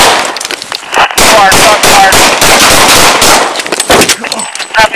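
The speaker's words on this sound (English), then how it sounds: "Copy, shots fired, help the officer." Gunshots crack out during a police encounter in Seattle, heard close and very loud through a bodycam. Several rapid reports come in a dense burst that cuts across shouting voices.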